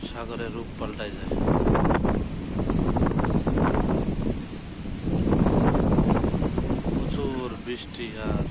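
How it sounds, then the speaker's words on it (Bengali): A strong storm wind blows by the sea in the Maldives, roaring and buffeting the microphone in heavy surges that rise and fall over several seconds, with voices faintly mixed in. "প্রচুর বৃষ্টি আর বাতাস।"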